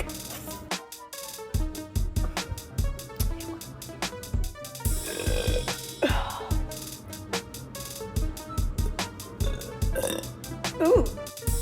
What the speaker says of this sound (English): they're so small today, but all burps are great burps.